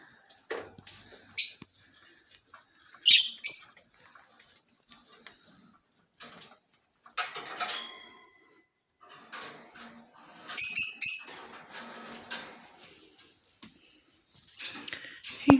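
A pet budgie gives scattered bursts of high, thin chirps and chatter in a quiet indoor room, with faint rustles between the calls.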